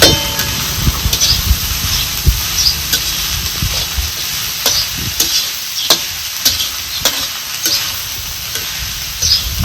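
Safflower greens sauté and hiss in a hot pan while a spatula scrapes and stirs through them, leaving close, loud, irregular clacks over a constant sizzle.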